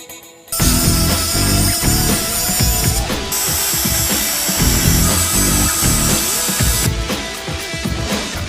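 A power tool cuts into a car drive shaft in a garage, a loud sustained grinding, rasping whine that starts abruptly and keeps going with shifting pitch and metallic rattle, close and harsh.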